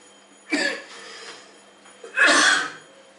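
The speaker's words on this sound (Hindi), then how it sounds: "अरे मेरा अभी तक खांसी नहीं हुआ था" Two loud, close coughs about a second and a half apart, the second longer and harsher.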